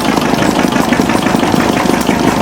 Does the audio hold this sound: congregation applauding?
no